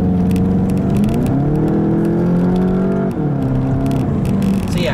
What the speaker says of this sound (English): I'll go ahead and put it in the manual mode here, though, and try some manual shifts